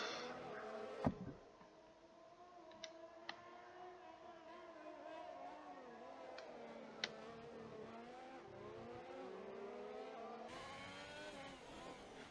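Formula 1 racing game engine sound during the Baku Grand Prix, a continuous high revving whine with rising and falling pitch as cars accelerate, steady and fairly loud throughout with a few brief clicks.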